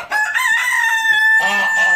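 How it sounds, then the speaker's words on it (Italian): A rooster crows loudly and close by, one long drawn-out call with a strained, rising finish. "Hai sentito il mio gallo?"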